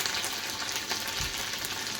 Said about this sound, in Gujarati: અહીંયા મેં તેલમાં જીરુંનો વઘાર કર્યો છે